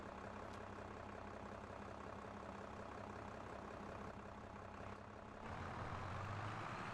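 A farm tractor's diesel engine idles steadily on a British dairy farm, a continuous low rumble heard close, with a slight rise in engine note toward the end and no talking.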